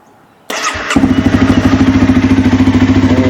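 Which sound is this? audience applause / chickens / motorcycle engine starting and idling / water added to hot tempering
motorcycle engine starting and idling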